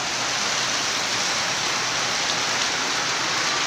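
Steady, heavy rain from Typhoon Carina in Metro Manila pours down in a dense, unbroken hiss with no pauses.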